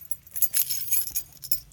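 Keys to a 2003 Toyota Camry LE jangling close up, a bright rattling cluster of metallic clinks in several quick bursts.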